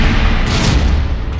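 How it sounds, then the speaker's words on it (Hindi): A powerful explosion from an airstrike near the Syrian border during the Israel-Hezbollah conflict roars as a loud, sustained rumbling blast with broad noise that slowly eases off. "तभी कैमरे में रिकॉर्ड होता है एक जोरदार धमाका। एक के बाद एक 2 ब्लास्ट होते हैं"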